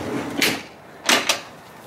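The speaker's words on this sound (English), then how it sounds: "you just pull out this drawer," A wooden drawer on a dog food dresser slides out with a soft scraping rub, then a second pull gives two quick knocks and a scrape, moderately close with no talking.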